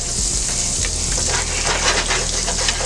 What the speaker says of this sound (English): About 3 tablespoons of butter there. We're just going to melt this down.